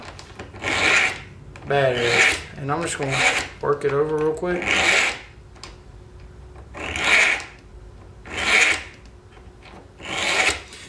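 A kitchen knife blade drawn through a Rada sharpener, giving a series of rough, ridged rasping strokes, about seven in all, close and fairly loud, with someone talking briefly between the early strokes.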